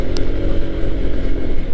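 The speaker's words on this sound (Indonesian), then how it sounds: "Dan motor ini masih mau terus digas terus, masih mau naik." Honda ADV 160 scooter engine revving steadily while climbing an uphill road, a continuous loud, close drone held under throttle throughout.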